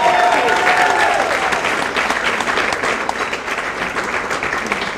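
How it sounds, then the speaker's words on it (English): A comedy club audience applauds and cheers for a stand-up comic, steady dense clapping filling the room for the full stretch with no voices over it. "Give it up right now, Erin Davis, everybody, let her hear it."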